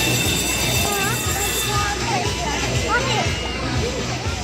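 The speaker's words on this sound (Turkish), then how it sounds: "trene binecek misin?" An amusement park train ride rumbles and clatters steadily at close range, with wheels squealing intermittently while people talk over it.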